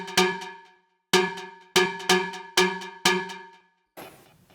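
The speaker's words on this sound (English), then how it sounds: "So I layered it then with cowbells." Layered cowbell samples pitched into a single key for a house music track, struck in a syncopated pattern of six bright metallic hits, each ringing and decaying, followed by a fainter noisy tail.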